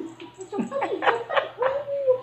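A dog whimpers and lets out several short, high yips in quick succession, close by, ending in a drawn-out whine.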